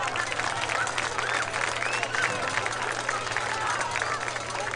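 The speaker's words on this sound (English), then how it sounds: "Let's give them a round of applause." A crowd applauds girls' high school athletes: steady, dense clapping with a low murmur of voices and a constant hum underneath, holding at an even level throughout.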